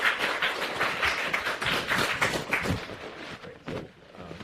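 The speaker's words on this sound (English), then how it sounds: "let's give another round of applause to our presenters" A conference audience claps steadily for a few seconds for presenters, a dense wash of applause that thins toward the end.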